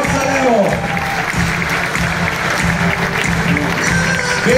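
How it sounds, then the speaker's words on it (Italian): Steady applause from a crowd at a company presentation in Cuneo, Italy, fills the space, continuous clapping over a noisy hall with some voices mixed in. "Voglio un applauso più forte, forza Leo."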